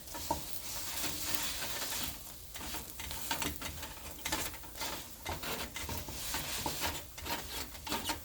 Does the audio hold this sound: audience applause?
no